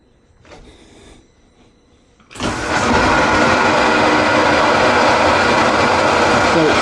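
After a quiet stretch with a few small clicks, a loud steady hiss of compressed air at 60 psi through an HVLP spray gun bursts on and continues without pause.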